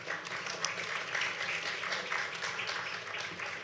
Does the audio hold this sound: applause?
yes